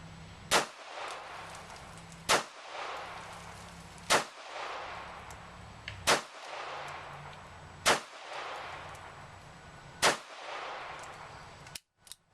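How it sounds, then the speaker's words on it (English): A SIG P250 subcompact pistol is fired at the range, seven sharp, loud single shots spaced roughly two seconds apart, each cracking and then decaying with a brief echo. "The P250 subcompact, much easier to handle, much easier to shoot"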